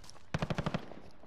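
Rapid burst of six automatic gunshots in the Call of Duty Modern Warfare Warzone video game, evenly spaced and punchy, firing alone after a brief quiet lead-in.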